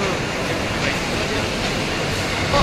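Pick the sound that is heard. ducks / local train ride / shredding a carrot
local train ride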